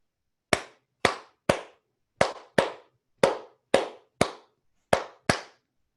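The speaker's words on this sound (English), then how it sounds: "So if you're clapping out a beat" Hands clap a salsa clave beat: ten sharp, dry claps land alone in a syncopated, uneven rhythm with brief silences between groups, close and clear.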